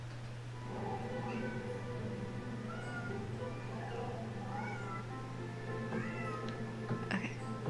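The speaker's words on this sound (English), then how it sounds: "That's my cat throwing a tantrum now." A pet cat throws a tantrum with repeated, wavering meows, some drawn out and whiny, over a steady low hum with faint soft-spoken talk in the background.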